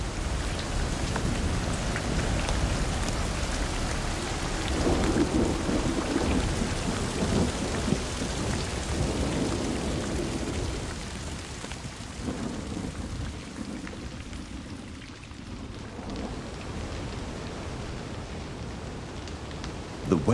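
Steady heavy rain pours on a forested mountain slope at the foot of the Tatras in Slovakia, a dense hiss on leaves and ground, with deep rolling rumbles like distant thunder beneath it.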